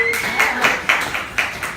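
Audience at a Melbourne startup drinks and pitch night applauding briefly, a few sharp claps standing out over a dense, steady patter that lasts just under two seconds.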